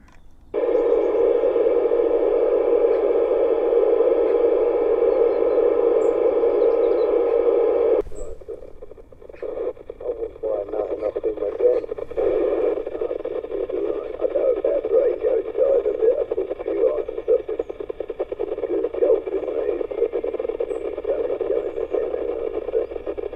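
A CB radio tuned to channel 25, mounted in a tree, hisses with a steady, loud tonal static that cuts out briefly and then returns as a rougher, fluttering hiss, with no voices answering.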